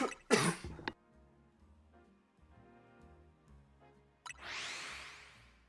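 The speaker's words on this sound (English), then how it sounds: "I had an absolute coughing fit" Harsh, explosive coughs burst out close to the microphone in a quick cluster, then a quieter stretch of low background tones before a final breathy, throat-clearing cough.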